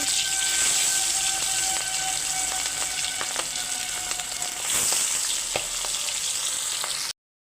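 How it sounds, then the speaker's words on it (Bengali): Hilsa fish frying in hot oil in a wok, a steady, close, loud sizzle that holds for about seven seconds, with small crackles and a few clinks and stirring knocks, and then stops abruptly. "কড়াইয়ে তেল গরম হয়ে গেছে এখন আমি মাছগুলো এক এক করে দিয়ে দিচ্ছি"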